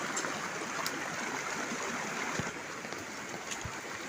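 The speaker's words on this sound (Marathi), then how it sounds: "हे झऱ्याचं चालू पाणी आहे" Spring water running in a small stream below hillside village houses, a steady close rush and babble of flowing water with a few brief splashes and knocks, no speech over it.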